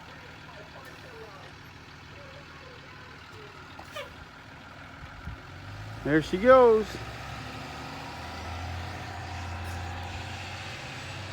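A school bus pulls away on a snowy day in Fairfield, Vermont, with its engine rumbling and an air brake hissing loudly near the middle, under a short spoken remark.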